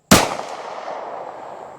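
A single sharp gunshot from a Ruger LCP Max 2.8-inch pistol firing copper ammunition, a loud close crack followed by a long fading ring-out with no voices.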